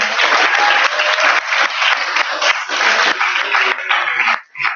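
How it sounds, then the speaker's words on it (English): A live audience at a tech presentation event bursts into dense, sustained applause for the presenter Vivi, loud and close, filling nearly five seconds before tapering off abruptly at the end. "can I get a round of applause, please, for Vivi?"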